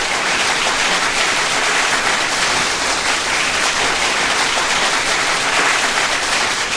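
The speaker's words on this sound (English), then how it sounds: "Because the claps will always continue." A studio audience at a morning coffee talk show claps in long, unbroken applause, a dense steady patter of many hands that holds at an even loudness throughout.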